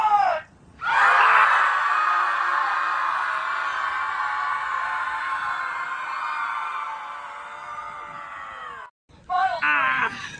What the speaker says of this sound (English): I muted my mic and I screamed so much that I'm now coughing